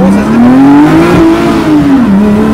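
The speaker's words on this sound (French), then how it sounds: "l'accélération, tu vois, du compresseur est moins bête que celle du turbo" A costly supercharged car accelerates up close, its loud engine note and whine climbing in pitch for about a second, holding, then dipping briefly as it pulls on.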